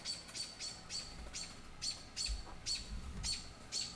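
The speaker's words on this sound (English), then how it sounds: "And the birds are going off" Birds chirp outdoors in a steady run of short, bright calls repeating roughly every half second, fairly clear against a soft background hum.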